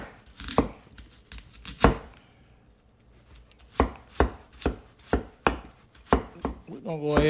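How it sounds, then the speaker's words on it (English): Onions and garlic sliced with a knife on a cutting board: loud, close, sharp chops, a couple of isolated strikes at first, then a steady rhythmic run of cuts, with no talking. "let's get our onions and stuff sliced up"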